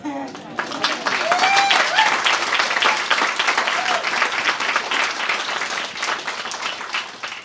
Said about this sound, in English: sure you can do applause